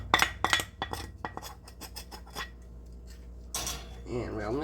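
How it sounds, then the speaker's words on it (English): A metal measuring spoon stirs spices into homemade turkey gravy in a big pot, giving a cluster of quick clinks and scrapes that then settle into quieter stirring. "Now I'll get my measuring spoon and mix it."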